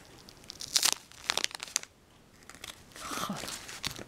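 A knife cuts through a pastry filled with hazelnuts, giving crisp crunching and crackling bursts of flaky crust, close and fairly loud, followed by a softer grinding scrape.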